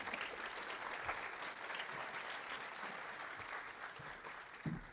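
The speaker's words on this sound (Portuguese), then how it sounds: "Uma salva de palmas," An audience at the 2026 kickoff event of the Joinville innovation ecosystem applauds, with a sustained, even crowd clapping that stays faint and somewhat distant, and a few sharper claps stand out near the end.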